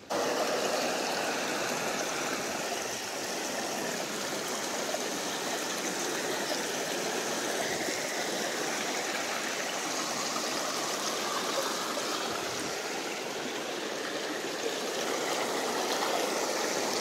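Creek water flows over rocks in a steady, continuous rush near a petrified sand dune by Dinosaur National Monument, close and alone with no talk.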